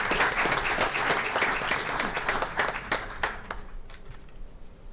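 A room at a school board meeting claps for DECA regional champions, with loud, dense applause that thins into scattered individual claps before fading out.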